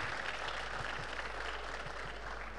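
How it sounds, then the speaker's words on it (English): An audience at a literature and culture festival in Delhi gives a steady round of applause to welcome an author, the clapping fairly soft and diffuse, as if heard from a distance in a large hall. "May I request all of you to welcome Ruskin with a big round of applause"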